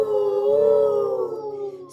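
A single sustained vocal hoot imitating a train whistle, an "ooh" shaped by the mouth, held steady for about two seconds at close range, no other sounds around it.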